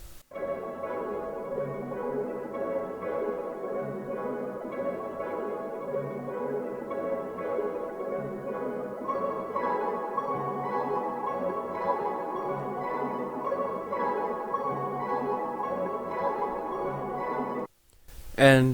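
A piano slowed through a halftime effect and restretched, washed in heavy convolution reverb, forming a dense, sustained ambient pad that holds steady for about seventeen seconds before cutting off into a brief louder tail.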